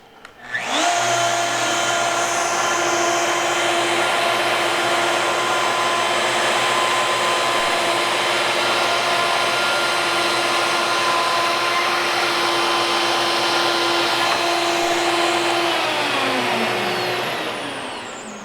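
Router running in a Rout-N-Plane jig while cutting across a board, a loud steady high whine with a rushing cutting noise that holds for about sixteen seconds before spinning down.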